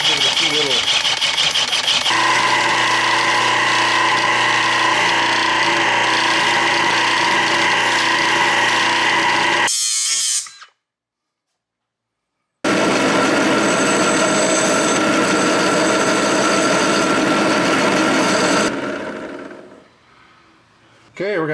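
A 1/2 inch bit drills into a titanium flounder gig with a loud, steady whine for about eight seconds, cuts out briefly, then grinds on again for several more seconds.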